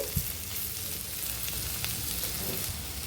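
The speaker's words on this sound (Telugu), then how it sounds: "ఒక నిమిషం పాటు ఆయిల్లో ఫ్రై చేసుకోవాలి" Broad beans (tammakayalu) fry in hot oil in a pan, giving a steady, close sizzle that runs evenly throughout with no voices.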